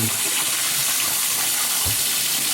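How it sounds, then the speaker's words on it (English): Hot water runs steadily from a tap into a sink, a constant close rushing hiss with no pauses. "I'm going to run some hot water"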